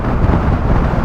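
Loud, continuous wind roar buffets the helmet microphone while riding a 2025 Honda ADV350 scooter at speed, a dense low rumble with no break.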